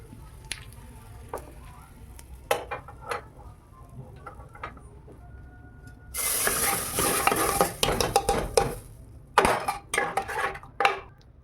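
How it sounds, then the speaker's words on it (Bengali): Cumin and asafoetida hit hot ghee with a loud burst of sizzling about midway, joined by clinks of a spoon and utensils against the pan, with scattered taps and scrapes before and after; no one speaks. "ঘি দিয়ে একটু ফোড়ন দিয়ে দেবো। বার্গারের সবজিতে ঘি আর জিরে আর হিং।"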